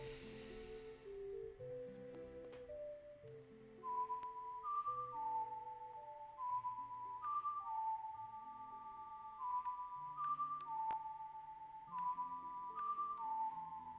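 A slow, gentle whistled lullaby melody from Zelda: Ocarina of Time, with clear sustained notes over soft low accompaniment, played calmly and alone.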